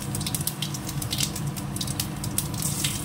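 Cumin seeds sizzling in hot oil in a wok, a steady crackling hiss with scattered pops and spits throughout, close and fairly loud, no voices.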